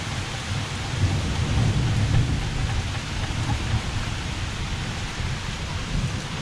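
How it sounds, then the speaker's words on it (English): Thunder rumbles low and long beneath a steady downpour of rain hissing close by, with no voices. "I'm hearing thundering."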